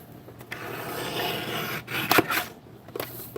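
A paper trimmer slicing through paper, heard as a short rasping, rubbing cut with a couple of brief scraping strokes, fairly close and moderately loud with no talking.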